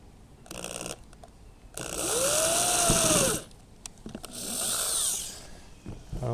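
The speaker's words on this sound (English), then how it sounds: "And then let's go ahead and drill it again." Two long bursts of a power drill whirring up and winding down, close and loud, with short quiet pauses and small clicks between them.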